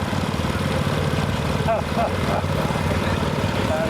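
Antique tractor engine chugging steadily at a parade, a continuous low rumble with a faint intermittent squeak over it.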